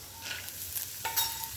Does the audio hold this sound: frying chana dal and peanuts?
yes